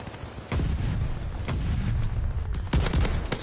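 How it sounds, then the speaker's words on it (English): Incoming mortar shells in Call of Duty Vanguard, a series of loud booms and sharp blasts amid continuous rumbling battlefield noise. "They're sending mortar shells."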